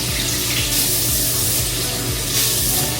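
Water runs from a faucet while a baby is washed before a bath, a loud, steady splashing stream heard alone without pause.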